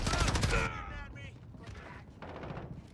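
Gunfire in the Call of Duty: Modern Warfare Catacombs map with a Holger-26 rifle: a dense, loud burst of rapid shots at the start, then quieter scattered shots and game noise under faint background voices.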